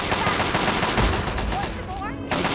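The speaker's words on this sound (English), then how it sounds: "What are we shooting at?" Rapid gunfire in the video game Fallout 3, with dense crackling shots filling the clip at steady loudness and faint game voices mixed in.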